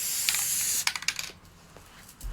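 An aerosol can of spray adhesive hisses steadily onto fabric for basting, close and fairly loud, then cuts off into a few quick clicks and rustles of fabric being pressed in place.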